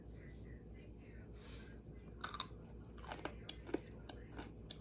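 Homemade low-calorie granola sweetened with caramel pecan skinny syrup being bitten and chewed: a few faint, close crunches scattered over a quiet, hissy background.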